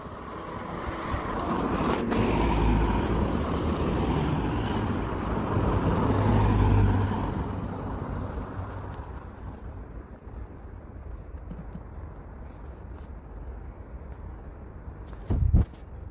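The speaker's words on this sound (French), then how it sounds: "On attend que les voitures passent parce que là il y en a un max" Several cars pass along a nearby road, a broad loud rush of traffic for the first seven seconds that fades to a steady low rumble, with a brief thump near the end.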